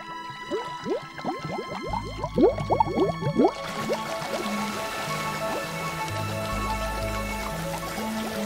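A mountain spring starts with a run of bright, bubbling gurgles and drips. It then settles into a continuous watery trickle overlaid with a sustained musical tone.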